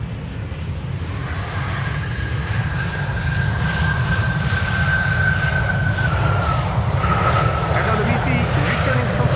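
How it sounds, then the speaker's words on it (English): An Embraer 190 jet arriving from Frankfurt at Amsterdam Schiphol rumbles steadily and loudly, its engine roar with a thin whining tone slowly sliding in pitch as it passes, while a voice talks over it. "Returning from Frankfurt, Embraer 190."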